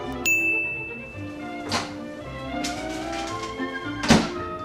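A microwave door thunks shut and a bright ding rings out, followed by a few more knocks and a sharp clatter near the end, over a steady hum.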